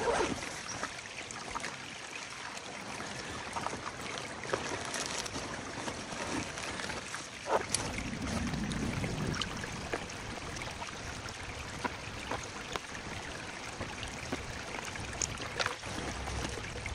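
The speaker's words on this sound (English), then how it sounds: "a little creek going through here" A small alpine creek flows nearby, a quiet continuous babble and trickle of running water with occasional splashes and handling noises close to the microphone.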